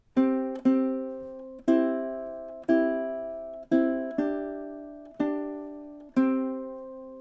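Close ukulele playing measures 16 and 17 of the Jamaican folk song Day-O, nine ringing chord strums in an even rhythm with quick pairs and sustained decays, heard alone without voices.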